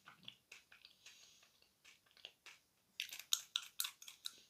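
Someone biting and chewing soft, squeaky sakura edible clay that has some grains of sand in it, with faint close-up nibbles and then a run of sharper crunchy, squeaky bites toward the end.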